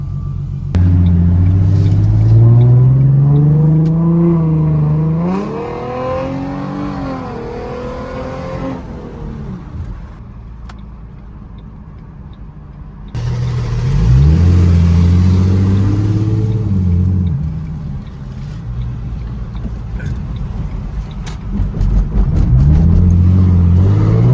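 A car with a newly installed transmission revs and accelerates on a test drive, the engine pitch climbing loud and close through gear changes, then easing off before pulling hard again.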